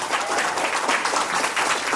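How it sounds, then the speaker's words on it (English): Audience applause at an open mic night, a sustained, dense wash of clapping that stays loud and steady throughout, with no talk over it. "So y'all can go ahead and give a round of applause."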